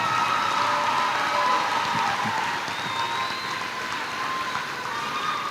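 Applause for graduates at a high school graduation: a dense, steady round of clapping from a large crowd that stays loud for several seconds and eases slightly near the end, with no talking.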